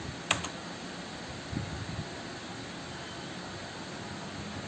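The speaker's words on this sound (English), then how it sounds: "So I will type BCD." A few quick keystrokes on a computer keyboard as a short program name is typed, with sharp clicks near the start and around the middle over a steady background hiss.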